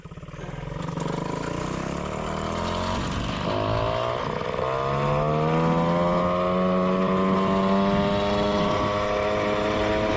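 A moped engine held at full throttle on the Flèche d'Argent project bike, a loud steady buzzing drone that climbs in pitch and then holds high and constant.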